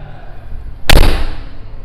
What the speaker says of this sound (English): and then closing noise,